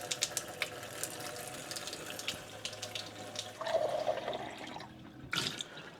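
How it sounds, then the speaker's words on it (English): Water runs from a Frizzlife PD1200 reverse osmosis faucet into a sink, a quiet steady splashing stream with a brief change in flow near the end. "one thing I really like about this faucet is that it has really good water pressure"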